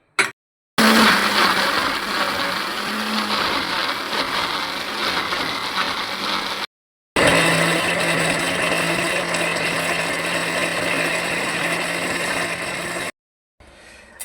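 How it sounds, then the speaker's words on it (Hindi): A blender grinds spices with dried coriander and salt for a green chicken roast, running loud and steady for several seconds, stopping briefly, then whirring again before cutting out near the end. "ये तमाम चीज़ों को हम अब पीस लेंगे।"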